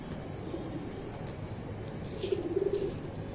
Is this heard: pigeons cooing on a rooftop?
yes